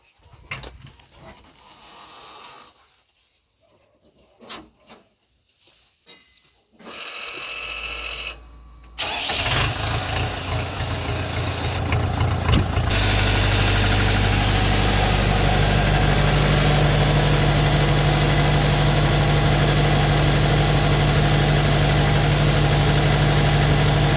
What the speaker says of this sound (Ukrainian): Закриваємо на оприскуючий цей кран і заводимо трактор.